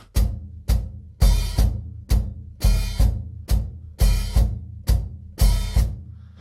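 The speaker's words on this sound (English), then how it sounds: "Or I can play the hi-hat in unison," A drum kit plays a steady groove, kick drum hits landing with washy open hi-hat splashes that close off sharply, repeating in a tight pattern.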